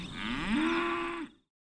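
A single close cow's moo, a long rising then sustained bellow about a second long, ends abruptly and drops into silence.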